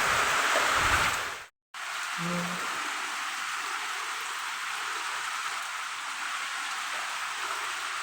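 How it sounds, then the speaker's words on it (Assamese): Steady rushing water from a small waterfall in Lower Haflong during rain, constant and fairly close, briefly cut by a moment of silence near the start. "এটা সৰু সুৰা এইটো ঝৰ্ণাই পৰি আছে পূৰা আৱাজটো শুনকচোন"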